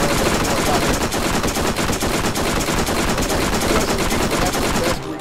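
Dense, continuous rapid-fire gunfire from the video game Borderlands during a boss fight, loud and unbroken for about five seconds before cutting off abruptly.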